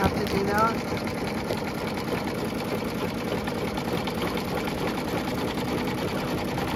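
An embroidery machine runs with a steady, continuous whirring hum as it stitches a quilted lace bag in the hoop, and a voice speaks over it.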